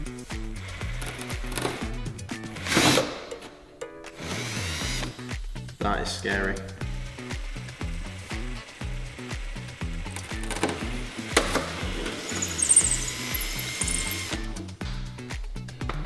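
A loud power drill whirs and grinds steadily through a Toyota Sera's fiberglass bonnet, with pitch dipping under load, while a voice speaks briefly over it.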